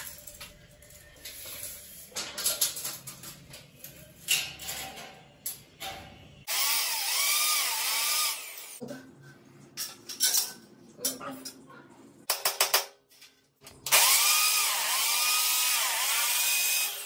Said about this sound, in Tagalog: ginamitan ko muna siya ng concrete nails bago ko siya ginamitan ng drill, yung impact drill, para mas mabilis